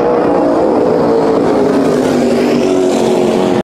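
Turbo speedboat engine in a video game, a loud steady high-revving roar that runs unbroken for several seconds before cutting off abruptly.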